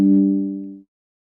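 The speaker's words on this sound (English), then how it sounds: "That was my phone." A single mobile phone notification sounds as one clear, close electronic chime that rings out and fades smoothly within a second, followed by silence.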